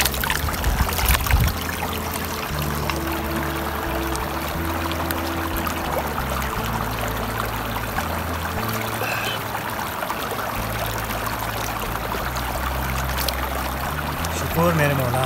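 A glacier stream on Siachen mountain rushes steadily and loudly, a dense continuous wash of flowing water close by that holds level throughout.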